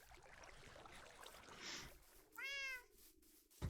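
A Minecraft cat gives a clear, rising meow near the end, after a soft watery trickle and a short hiss. The sound is faint overall and close.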